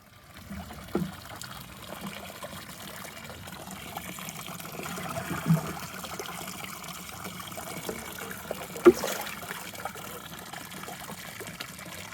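Diluted urine fertilizer poured into water in a garden, a steady soft trickle and splash of liquid throughout, close and moderately quiet, with a few small knocks.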